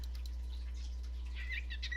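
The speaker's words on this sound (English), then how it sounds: "my birds" Pet birds indoors give quick high chirps and tweets, a few bright calls clustering toward the end, faint against a steady low electrical hum.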